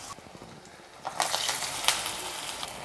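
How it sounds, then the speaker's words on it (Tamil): Raw papaya vadai drop into hot oil and burst into a bright, crackling sizzle that jumps up suddenly and keeps fizzing steadily up close. "அப்படியே எண்ணெயில் போட்டு பொரிச்சிடலாம்"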